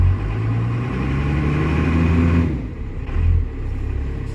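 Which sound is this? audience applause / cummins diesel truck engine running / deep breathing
cummins diesel truck engine running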